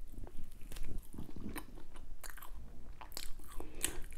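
Close, intimate chewing and biting of Indian food, samosa and homemade butter chicken, soft crunches and wet mouth sounds in irregular bursts with small clicks, no talking.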